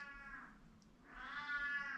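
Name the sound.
cat meowing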